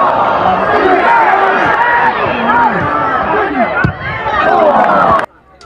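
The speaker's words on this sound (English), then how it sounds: "the crowd for Kings Lynn are not happy because decisions are going against them and it's riling them up" King's Lynn football supporters at a relegation-battle match against Rushall Olympic jeer and shout in a loud, continuous crowd roar with rising and falling yells, cutting off abruptly at the end.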